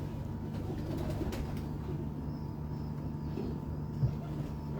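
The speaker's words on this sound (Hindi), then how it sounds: "ये देखें जी कबूतर" Pigeons from a fancier's flock coo softly in an outdoor setting, low murmuring calls under a steady ambient hum with one brief louder note near the end.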